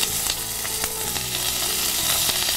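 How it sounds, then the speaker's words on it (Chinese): Duck meat pan-frying in hot oil in a wok, a continuous bright sizzle broken by sharp crackles and the clink of a spatula stirring, close and loud with no talking. "其实我们这边煎的时候也等于是给它去除一部分油脂了"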